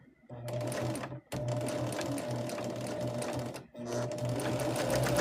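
A sewing machine stitching patchwork fabric for a pillowcase, its needle whirring in a steady rhythmic hum that runs in three bursts with two brief stops in between.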